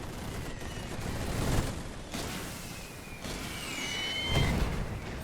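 Machine gun fire in The Great War game: bursts of rattling gunfire with a few louder booms and whizzing ricochet tones, moderately distant, over a constant battlefield din.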